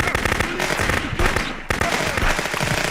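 Sniper rifle shots in the Contraband Police video game, with sharp loud cracks that repeat at irregular intervals over a dense, noisy gunfight.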